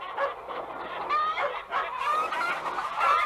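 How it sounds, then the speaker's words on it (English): Hens cluck and squawk busily as they are shooed into the roost on a farm, a dense, continuous flurry of agitated fowl calls with no talking. "Shooing the hens into the roost."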